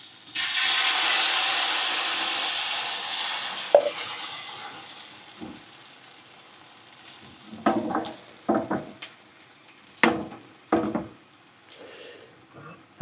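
Loud broad sizzling as eggs hit a hot pan on a campsite, fading out, followed by several sharp scrapes and clanks of a utensil against metal.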